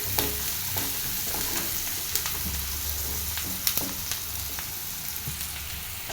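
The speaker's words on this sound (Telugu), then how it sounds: "ఆనియన్స్ ఫ్రై అయింది." Onions for egg curry sizzle and fry in a pan, a steady crackling hiss broken by occasional sharp clinks of a spoon stirring against the metal, with no voices.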